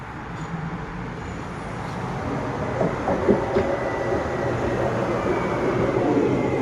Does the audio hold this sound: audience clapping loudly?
no